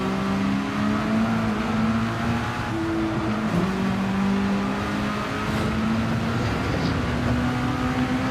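A race car engine drones steadily through a turn, loud and continuous, with a faint rising and falling pitch under a constant roar.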